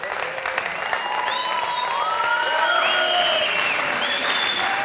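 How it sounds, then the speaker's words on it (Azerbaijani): Loud, sustained applause from a live show audience fills the whole stretch, dense and steady, with some cheering or whistles on top. "Hər dəfə bir özünüzü yenə gürültülü alqışlayın."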